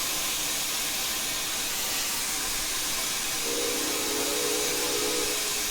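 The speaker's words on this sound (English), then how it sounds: "The B key plays the secondary whistle." The secondary steam whistle of an LNER A3 4-6-2 Flying Scotsman locomotive in Train Simulator Classic enters partway through as a low, steady tone, over a loud continuous hiss of steam.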